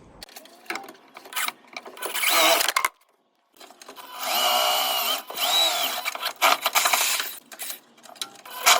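A battery-powered drill whines in several bursts, biting into a 1978 Scorpion's dash with grinding and rattling, pausing briefly between runs, close and fairly loud.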